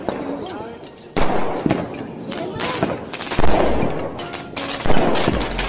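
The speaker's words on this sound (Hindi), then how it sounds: "चलिए इसके दोनों फ्यूज एक साथ जला के इसे टेस्ट करते हैं।" A 60-shot multicolour firework cake with both fuses lit fires a rapid series of sharp bangs and crackling bursts, loud and fairly close, with voices audible between the shots.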